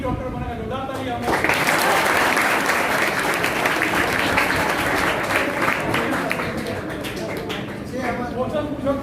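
An audience at a coaching institute gathering breaks into loud, dense applause right after a brief spoken line, clapping steadily for several seconds before easing off as talking resumes.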